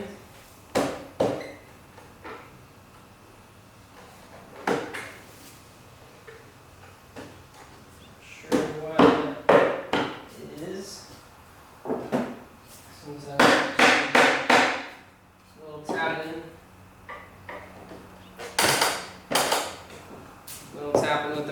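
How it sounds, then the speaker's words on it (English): A mallet taps on clamped Douglas fir construction lumber, giving sharp, scattered knocks in small clusters at close range, with someone talking in between. "Little tapping with the mallet."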